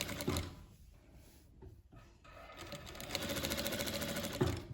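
Sewing machine stitching strips of fabric for a patchwork ethnic bag, running in a steady mechanical whir with a brief pause midway, then continuing louder and close by.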